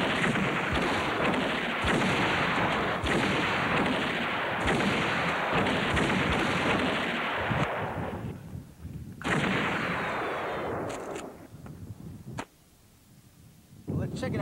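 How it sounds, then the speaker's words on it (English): Rifle shots at a skeet range at a 1994 outdoor gathering, loud reports booming over a rumbling, wind-blown background, with voices talking between the bursts. "Safety's off, and it's a drive-by shooting,"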